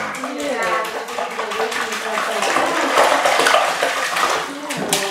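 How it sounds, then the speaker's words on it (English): Water sloshes and splashes in a bathtub as a dog is bathed, steady close splashing throughout with people talking over it. "Hey, show us some splashes. Show us some splashes."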